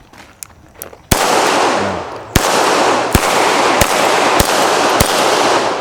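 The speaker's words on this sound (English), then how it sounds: "now it's going to be a double action pull the first time as I shoot this target right here" Taurus pistol shots fired at a target outdoors, five loud sharp cracks spaced about a second apart, each ringing out into a sustained echo, with a few faint clicks before the first shot.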